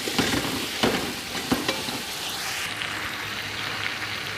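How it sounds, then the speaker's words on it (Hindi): Chicken fries in a pot for chicken pulao, giving a steady close sizzle with a few stirring clatters early on and no talking. "इसमें अच्छी तरह इसको भून लेना है।"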